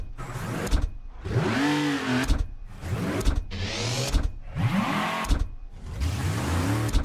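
Cars in the video game Mafia Definitive Edition, with several close engine passes and revs that swell and fade in separate bursts, each followed by a short near-silent gap.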